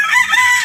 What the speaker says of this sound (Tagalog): Ayan yung mga manok niya.